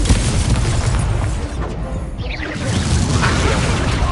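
A Confringo explosion spell bursts in Hogwarts Legacy on PS5, a loud, dense boom with a crackling, whooshing blast that fills the clip, dips briefly midway, then swells again.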